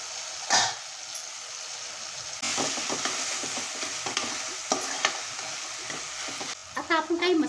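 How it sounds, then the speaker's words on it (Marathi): Tomatoes sautéing in a pan for vegetable khichdi, a steady sizzle with a spoon stirring and scraping in quick bursts, loud and close with no talk. "2 मिनिटं परतून घेऊया टोमॅटोला."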